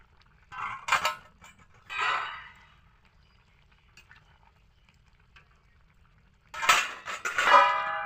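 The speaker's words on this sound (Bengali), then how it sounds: "এবার আমি ডিমগুলো দিয়ে দিচ্ছি" Eggs go into a pot of boiling water in a home kitchen, heard as a few separate metallic clinks and knocks against the pot with quiet gaps between them and a louder cluster near the end.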